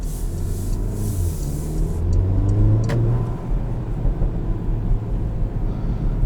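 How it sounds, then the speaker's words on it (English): 2022 Porsche Macan on the road with its standard exhaust, engine droning and rising under acceleration, with a sharp pop or crackle near the middle and steady road noise throughout. "Got plenty of burbles in this."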